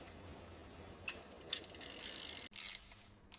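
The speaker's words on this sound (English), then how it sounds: "The drivetrain comes together as the chain is carefully threaded onto the front chainring and rear cassette." In a bicycle factory, the chain is threaded onto the front chainring and rear cassette during assembly. The gears click in a rapid, close, mechanical ratcheting burst, then a steadier whir follows, with no talking.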